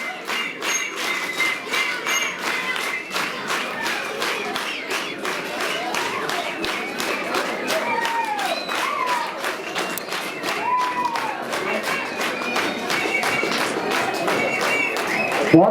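Audience applause at a three-day science communication programme held at a school stage, a steady sustained wash of many hands clapping for the whole span with some crowd noise and a brief voice mixed in.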